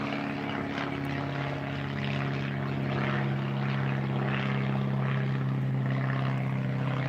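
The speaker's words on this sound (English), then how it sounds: "Check out that plane." A propeller-driven airplane passes overhead, its steady low drone and buzzing hum holding loud and continuous throughout, set outdoors beside a firepit.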